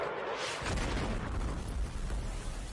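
A deep, rumbling blast from a missile strike in Kyiv, with a low roar that swells and lingers for a couple of seconds.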